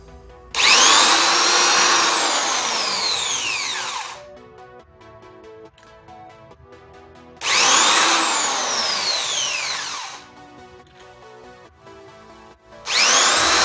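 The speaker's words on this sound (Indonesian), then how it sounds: "kita sudah lubangi" A power drill bores holes in the frame of a P10 LED running-text panel during assembly, in three loud bursts of whining drilling, each lasting several seconds, separated by quieter pauses with faint workshop noise.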